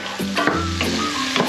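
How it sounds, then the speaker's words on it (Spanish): Red and green peppers frying in a pan with garlic and chili, a dense close sizzle with a few stirring scrapes over about a second and a half, no talking. "dorando nuestro pimiento rojo y nuestro pimiento verde con el ajo y la guindilla"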